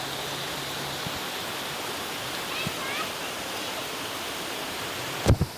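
The Jaceruba waterfall roars as a steady, even wash of falling water, with a brief thump near the end.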